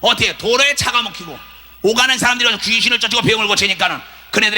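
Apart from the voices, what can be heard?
No everyday noises stand out.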